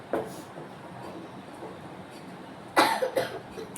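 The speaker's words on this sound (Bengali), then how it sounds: "কাশি হয়েছে খুবই, জানি তো।" A person coughs: one short cough near the start, then a louder cluster of several harsh coughs toward the end, close and clear over a quiet background.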